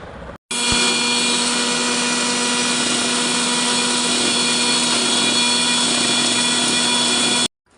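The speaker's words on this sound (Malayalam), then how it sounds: "നമുക്കൊന്ന് മിക്സിയിലിട്ട് കറക്കിയെടുക്കാം ആണ് വേണ്ടത്" An electric mixer grinder whirs loud and steady for about seven seconds while blending a cold drink, starting abruptly and cutting off cleanly, with a constant motor whine.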